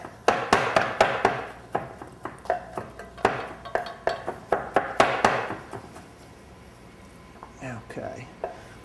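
A knife chops steadily on a wooden cutting board in a home cooking setting: a quick run of close, crisp taps for several seconds, then a pause and a few softer clinks.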